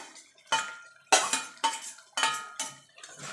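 Okra (bhindi) with sugar, slit green chillies and coriander leaves being mixed in a pan, a spoon scraping and clanking against the metal in five or six distinct strokes about half a second apart, close and clear.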